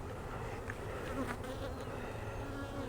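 Honey bees drone steadily at a hive entrance at dusk, a dense continuous buzz close by with a few individual bees whining past, no talking.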